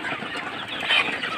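A large flock of about a thousand broiler chickens in a poultry shed makes a dense, continuous murmur of clucking and soft calls, many birds at once, steady and moderately loud without any single voice standing out.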